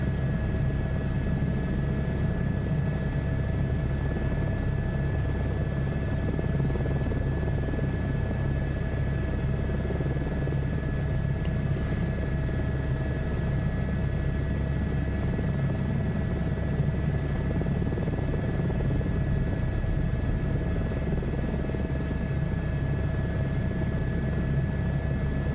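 A helicopter in Microsoft Flight Simulator 2024 drones steadily throughout a search-and-rescue mission, a constant loud rotor and engine hum with a faint whine on top and no talking.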